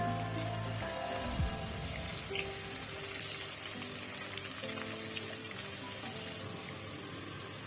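Bay leaf, cardamom, cinnamon and cloves sizzling in hot oil, a steady soft crackle and hiss with faint pops, alone throughout.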